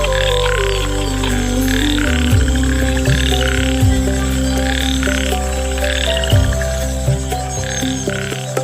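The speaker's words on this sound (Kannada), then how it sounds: "ಸಂಗಾತಿಯನ್ನು ಹುಡುಕುತ್ತಿರುವ ಈ ಕಪ್ಪೆಗಳು" Frogs calling for mates at night in the Agumbe rainforest of the Malenadu region, a dense, loud chorus of repeated croaks and pulsing trills over a constant low drone, with no voices.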